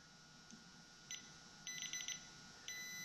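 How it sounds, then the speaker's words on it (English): Faint electronic beeps from a continuity tester on a VW Beetle Autostick reverse light switch, a few short ones then a longer sustained tone, over a quiet hiss. "it's beeping"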